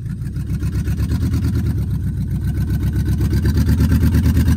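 A Dodge car engine idles loudly and steadily up close, a deep throbbing rumble that swells slightly louder toward the end, with no talking over it.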